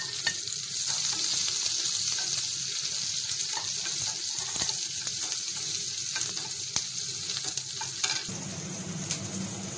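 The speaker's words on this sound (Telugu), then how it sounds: "కట్ చేసుకున్న ఉల్లిపాయ ముక్కలు వేసుకోవాలి." Chopped onions fry in hot oil in a pan alongside green chillies, giving a steady, close sizzle with scattered crackles and stirring scrapes that run throughout and ease slightly near the end.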